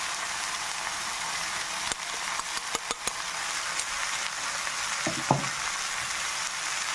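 Ground coconut mixture frying in a pan gives a steady hiss, with a run of quick spoon taps and scrapes as it is stirred, then a few softer knocks; no voices are heard.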